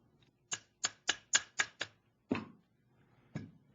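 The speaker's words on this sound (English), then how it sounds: "all we have to do is put our AR upper and lower back together" AR-15 upper and lower receivers snap together during a free-float handguard install: six quick, sharp metallic clicks in a steady rhythm, then two heavier clunks with pauses between them, close and clear with no talking.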